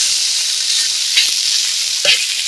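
Grated potatoes frying plainly in oil with only a little spicy masala give a close, continuous sizzle with brief stirring scrapes.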